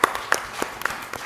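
A few sparse, distinct claps ring out at an African innovation conference session, roughly evenly spaced, close and fairly sharp, with no crowd applause building.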